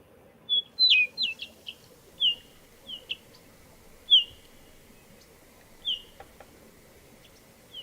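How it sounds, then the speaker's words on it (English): An olive warbler sings a series of short, high, clear whistled notes spaced irregularly over several seconds, moderately close with a soft background hiss. "that's the olive warbler, also declined."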